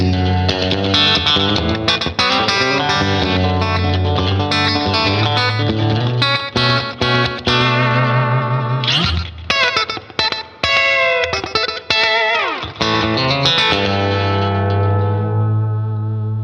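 Distorted electric guitar plays sustained chords and short phrases through a TWS 2864-S amp, with delay, slapback echoes and reverb trailing each note, loud and close.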